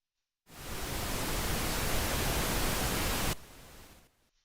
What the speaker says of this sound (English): This never fails. Pink noise.